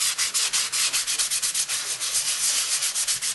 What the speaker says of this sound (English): So I'm just going to go ahead and keep sanding.